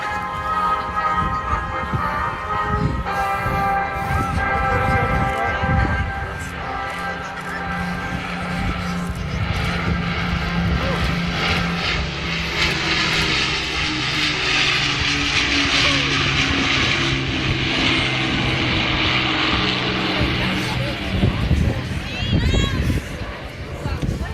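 An Avro Lancaster, a four-engine World War II propeller bomber, flies past at the Southport Airshow: a loud, sustained multi-engine drone that swells and shifts in pitch as it passes, with crowd murmur underneath.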